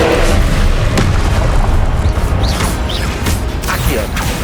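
A disarming spell blast in Hogwarts Legacy, a loud booming burst amid dense, continuous combat noise with sharp magical crackles and thumps layered throughout.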